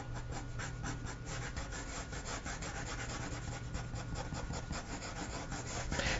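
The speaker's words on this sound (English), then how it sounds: "Okay, so now I'm just scribbling a little bit." Pencil scribbling on paper while shading a drawing of clothes and fabric, a steady close scratchy rubbing that runs continuously without pause.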